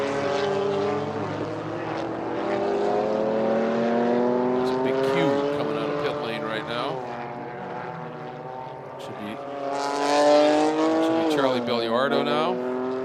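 GT4 race cars racing at Virginia International Raceway, several engines droning and rising in pitch with Doppler swoops as cars pass, loud and continuous under a commentator's talk.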